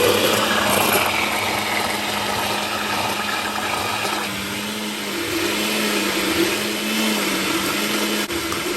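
A kitchen blender whirs continuously while blending a mango milkshake, a loud steady motor roar that dips briefly in pitch midway before resuming, with no voices.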